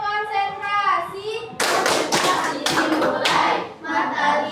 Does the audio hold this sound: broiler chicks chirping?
no